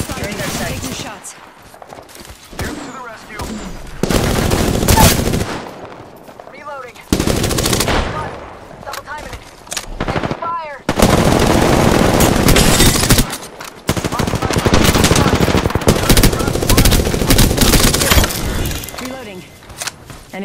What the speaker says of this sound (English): Shot fired. Enemy hit me.